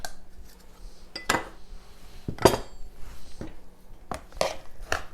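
Granulated sugar and cornstarch go into a bowl for a blueberry recipe, heard as scattered clinks and knocks of a spoon or measuring cup against dishware, with a few louder taps among quiet pauses.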